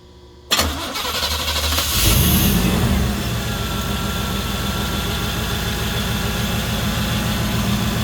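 A 1991 Chevrolet sports car engine cranks and catches with a sharp start, surges in a brief rev, then settles into a loud, steady, rough idle close by.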